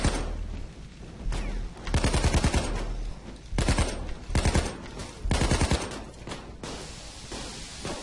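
Gunfire in the heist shooter PayDay 2 comes in several rapid automatic bursts separated by short gaps, loud and dense, with no talk over it.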